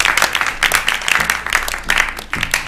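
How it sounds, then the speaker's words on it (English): Short burst of clapping from a game show audience, uneven and somewhat sparse, with individual claps pulsing in clusters over a few seconds. "A round of applause for Nkiwa."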